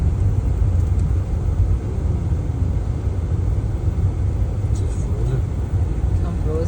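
A car drives along a frozen winter road near Whitehorse in the Yukon Territory at about -40, giving a steady, loud low rumble of tyres and engine from inside the cabin with no break.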